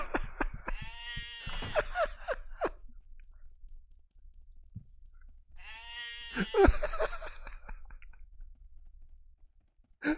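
Two separate, quavering bleats from a sheep in the video game Arcanum, each lasting about two seconds and separated by quiet, followed by faint clicks and a low background hum.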